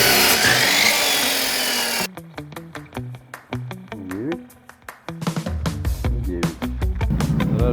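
A metal rod being cut to make a Yakut knife: a loud, harsh, steady cutting noise fills the first two seconds and then stops, followed by someone talking over sparse workshop knocks.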